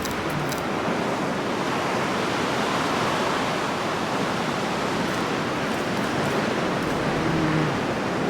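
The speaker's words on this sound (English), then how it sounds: "This blizzard doesn't seem to want to stop." Blizzard wind in the video game Jurassic World Evolution 2, a constant, thick rushing hiss that stays loud and unbroken from start to finish, like heavy snow-laden gusts with no voices over it.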